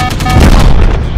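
A single loud, booming gunshot from a Dog Robot Transform mobile robot video game, close and heavy with a short rumbling tail.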